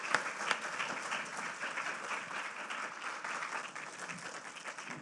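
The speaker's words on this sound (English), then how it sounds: "A round of applause for all of us." Audience applause at the close of a panel discussion on the 2024 election, a steady, moderately distant wash of many hands clapping for the full five seconds, with no speech over it.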